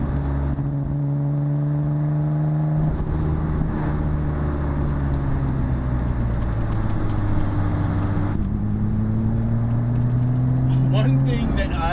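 Nissan Skyline twin turbo car driving, a steady close engine drone from inside the cabin with pitch rising and falling through gear changes, and someone talking over it.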